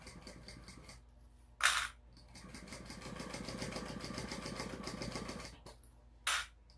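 A domestic sewing machine topstitches a fabric bag, the Pollies Purse Plus. It runs slowly for a few seconds as a soft, steady mechanical whir with a rapid stitch rhythm, and sharp brief clicks come just before and after the run.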